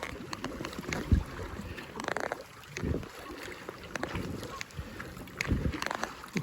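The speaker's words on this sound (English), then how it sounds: "Wind is to our back." Wind gusting around a wood strip canoe out on choppy water, with low buffeting rumbles and intermittent paddle splashes and water noise close to the microphone, steady throughout.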